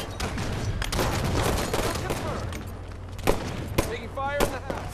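Gunfire from the video game Halo 5: Guardians: a dense, continuous fusillade of weapon fire throughout, with a few sharper, louder shots standing out near the end. Faint electronic game tones accompany it.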